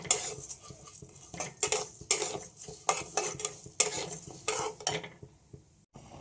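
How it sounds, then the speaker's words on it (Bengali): Mung dal dry-roasted in a pan at home, stirred with a metal utensil: repeated close scraping and rattling strokes in an irregular rhythm, with no voices. "অনেক দিন ভাজা মুগ ডাল খাওয়া হয় না, সেই জন্য আজকে একটু মুগ ডাল এখন ভেজে নিচ্ছি।"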